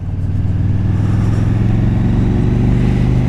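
Loud, close KTM Super Duke Gen2 motorcycle engine, held at a steady high drone as it automatically blips the revs on a downshift from fourth to third, with no voices over it.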